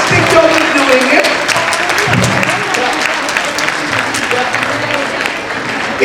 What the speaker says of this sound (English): Please give them the entire team a big round of applause.